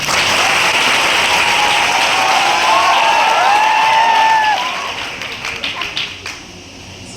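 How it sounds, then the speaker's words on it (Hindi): An audience at a sharing session in Sambalpur bursts into loud applause mixed with cheering and shouts, then the clapping fades into scattered claps and quieter room noise. "एक बार सार के लिए जोरदार ताली"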